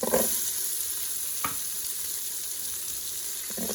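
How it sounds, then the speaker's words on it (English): Carrots, celery and onion frying in melted butter in a pan for osso buco, making a steady close sizzle with a couple of brief stirring bumps. "So I'm gonna wait for that butter to melt, and then we're gonna come in with our vegetables."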